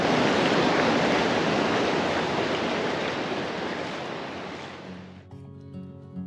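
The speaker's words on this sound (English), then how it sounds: "Here comes a big wave." Ocean surf breaking on the beach at St. Augustine, Florida: a loud, close, broad wash of water that rises and slowly fades over several seconds, then cuts to a quieter, tonal background.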